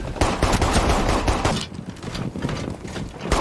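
Dense, rapid video-game gunfire from allied players in Rainbow Six Siege X, loud and close bursts overlapping throughout, easing slightly toward the end.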